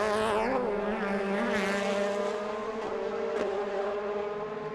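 DTM touring race cars from the 2000 season racing at the Norisring street circuit, a loud sustained engine roar with rising and falling pitch as cars pass close by, no talk over it.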